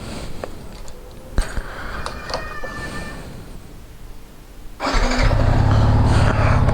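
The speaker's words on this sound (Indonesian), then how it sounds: "jadi kita panasin dulu motornya" Motorcycle engine starting after sitting unused for a week: a few seconds of handling clatter and clicks, then the engine catches and settles into a loud, steady close idle.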